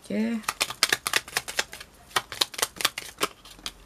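Tarot cards are shuffled by hand in a quick series of crisp riffling snaps and flutters, close and clear, with a brief voice at the very start.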